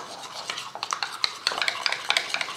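Mayonnaise, ketchup and chili garlic sauce stirred together in a bowl, a steady run of close, light scraping and clinking spoon strokes against the bowl with no talking.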